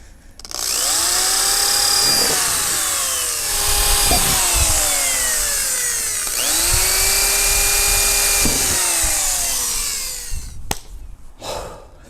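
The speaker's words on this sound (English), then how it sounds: "So let's go and drill a hole." A power drill whines at high speed through two long drilling passes into a Mazda Miata bumper, its pitch dipping under load, followed by brief clatter as it stops.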